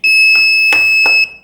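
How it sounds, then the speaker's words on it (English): An Arduino UNO buzzer sounds a loud, steady high-pitched electronic tone lasting just over a second, with a few faint clicks under it. "The buzzer is making a sound"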